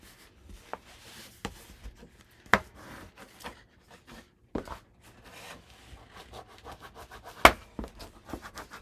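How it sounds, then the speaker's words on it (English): Paper is burnished onto a chipboard edge, producing soft dry rubbing and scraping strokes with occasional sharper taps, close and quiet, irregular in rhythm without speech. "push this up against the edge of the chipboard. And then I start in the center and pull this and burnish it."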